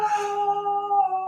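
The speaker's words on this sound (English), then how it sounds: "My dog decided she wanted to start howling." A pet dog named Shiloh howls in long, steady, tonal notes that hold pitch and waver slightly, close and fairly loud, set off by a distant siren, with no talking over it.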